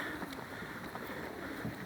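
Strong gusty wind blowing outdoors beside a pigeon loft, a steady broadband rush buffeting the microphone throughout with no talk.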